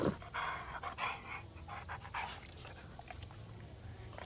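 A dog pants quickly and steadily, close and fairly quiet, with a soft whimper at moments and no talking.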